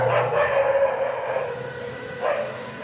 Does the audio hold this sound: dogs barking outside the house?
yes